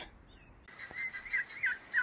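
A turkey gives a quick, warbling gobble up close, a rapid burbling call that repeats in short bursts after a brief silence.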